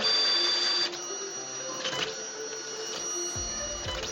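An Epson PLQ-20 dot-matrix passbook printer running its current-settings printout, a steady loud buzzing print-head whine with brief pauses and carriage shifts, heard alone up close.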